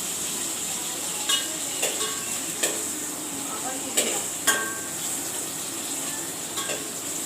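Onions fry in a pan over lowered heat with a steady sizzle, broken by several sharp clinks of a spoon stirring against the metal.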